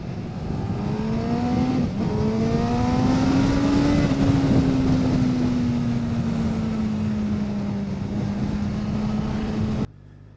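A 2017 Honda Fireblade SP motorcycle with its stock exhaust hums at a steady cruise, close and loud, holding an even engine note that rises slightly, then eases off before cutting out abruptly near the end.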